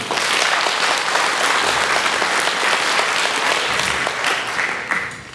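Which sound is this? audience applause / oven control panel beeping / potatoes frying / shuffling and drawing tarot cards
audience applause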